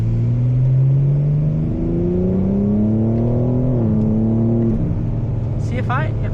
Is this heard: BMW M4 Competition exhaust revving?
yes